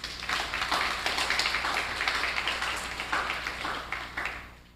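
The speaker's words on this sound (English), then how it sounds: "Round of applause for your teachers" An audience at a Saint Lucia education event applauds teachers with several seconds of dense, crackling group clapping, fairly loud and even, tapering off toward the end.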